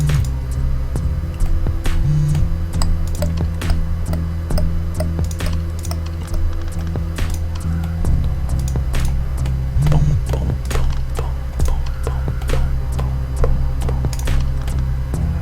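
Fast, continuous clicking of keys on a computer keyboard, dense and irregular over a steady low background hum, close and clear with no one talking.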